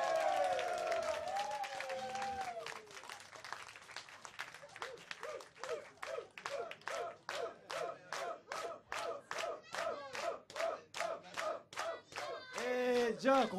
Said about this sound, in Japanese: Z オールスターズ、もう一度大きな拍手お願いします。